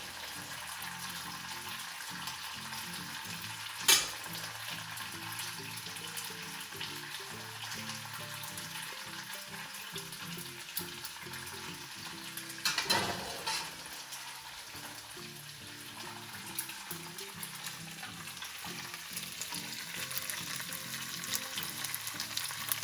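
Cooked pasta fries in a spicy garlic tomato sauce, giving a soft, continuous sizzle with clinks of utensils and a couple of louder clatters over about twenty seconds, and no voices.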